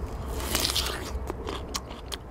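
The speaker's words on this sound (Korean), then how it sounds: "그 소리까지 맛있습니다. 되게 아삭아삭해요." Crisp, crunchy bites into a firm Korean melon (chamoe) just picked on a family farm, several sharp crackling crunches close to the mouth over a soft outdoor background.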